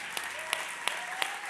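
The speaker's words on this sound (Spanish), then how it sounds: "otro fuerte aplauso al Señor" A congregation at a church service claps loudly and steadily through a brief moment, with sharper individual claps popping out of the wash.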